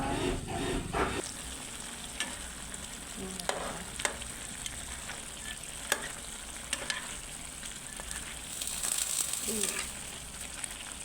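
Northern Thai chicken stir-fry sizzles and bubbles hard in a pan, with a dense continuous fry broken by sharp scrapes and clatters of stirring, close and loud, with no voices.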